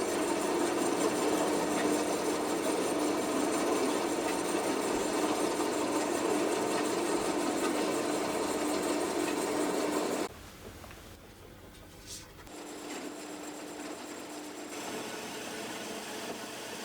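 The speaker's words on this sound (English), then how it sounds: "now when I'm happy and ready to begin cutting, I'm going to press the green button and I am then going to open the valve and let the saw fall slowly onto the material" A power saw with a valve-controlled feed is lowered slowly onto the material, giving a steady mechanical drone for about ten seconds before it drops to a quieter, thinner hum, with no talking.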